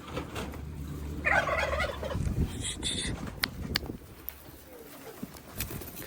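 Domestic pigeons, 44 birds freshly banded as 22 pairs, being moved into a loft tower; soft cooing and fowl-like calls come through with rustling and handling noises, close by and moderately loud, with no talking.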